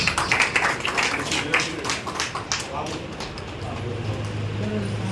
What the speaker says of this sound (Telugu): మనందరికీ ఒకసారి చప్పట్లు గట్టిగా చప్పట్లు